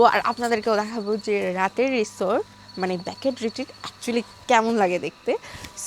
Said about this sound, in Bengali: এখানে অনেক ঝিঝি পোকার ডাক শুনতে পাবেন